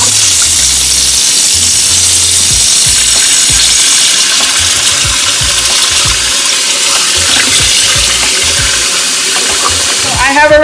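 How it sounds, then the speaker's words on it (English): Sliced steak is rinsed with cool water and lime juice, a steady loud stream of running water splashing over the meat with no talk, a continuous wash of noise through the whole stretch. "So now I'm going to wash this using some cool water and lime juice"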